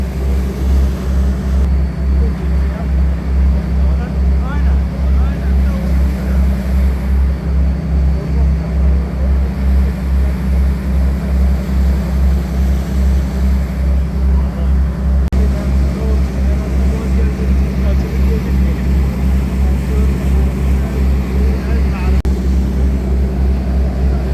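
Boat heading from Kartal toward Büyükada island in Istanbul, its engine giving a loud, steady, throbbing low drone throughout with water and wind noise layered on top.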